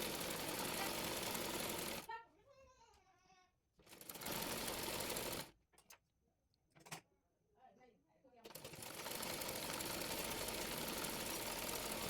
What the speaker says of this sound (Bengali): অংশটি মুড়িয়ে সেলাই করে নেব।